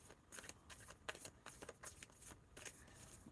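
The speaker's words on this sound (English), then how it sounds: "I'm trying to shuffle." Tarot cards are shuffled by hand nearby, a quiet series of crisp riffling bursts at an uneven rhythm, roughly a dozen short flutters alone with no talking.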